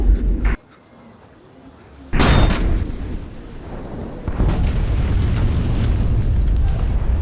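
Explosions in a video game go off in a few loud, booming bursts, one near the start and a bigger one after two seconds. A heavy rumble then carries on, with faint voices in the mix.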